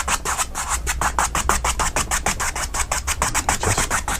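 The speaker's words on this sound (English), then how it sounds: "you're just really rubbing that color right into the white" A brush rubs paint color briskly into wet white glycerin in rapid, regular scratchy strokes, about four per second, close and steady with no talking.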